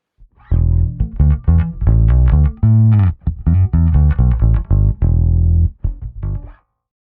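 Bass guitar through a BOSS GT-1000CORE with the X-Bass compressor engaged plays a phrase of plucked and sustained notes, loud, close and evenly leveled, ending in a fading tail.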